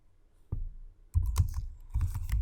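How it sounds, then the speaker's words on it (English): Short bursts of keystrokes on a computer keyboard, close and crisp, with a quick cluster of taps, a brief pause, then a second run of clicks. "So I'll type in import"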